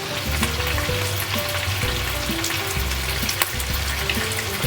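Sisig meat frying in a hot pan, a loud, dense, continuous sizzle and crackle held steady throughout with a few brief spatters, close by and with no talking.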